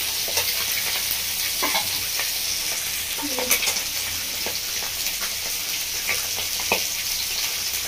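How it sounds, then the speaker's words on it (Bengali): Small mourola fish frying in a pan, a steady close sizzle broken by occasional clinks and scrapes of stirring, with no voices. "মাছগুলো এক চুলা খুব ভালো করে ভেজে নেবো।"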